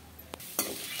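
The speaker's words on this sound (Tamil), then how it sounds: "பருப்பு வந்து வறுந்துட்டு இருக்கு" Lentils (dal) dry-roasting in a pan give a soft continuous sizzle with two brief scraping stirs, the second louder and followed by steadier frying noise, close and with no talk.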